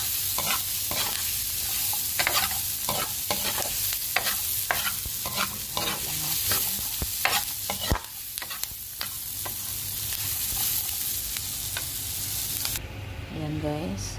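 Mung beans are dry-roasted in a pan without oil, with brisk rhythmic scraping and rattling stirs over a constant sizzle, close and busy, ending in a brief quieter tail.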